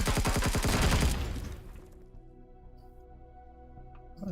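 A rapid, loud burst of automatic turret gunfire in the sci-fi survival game Empyrion Galactic Survival, a fast rattling volley for about a second that then fades into a quiet hum and faint echoes.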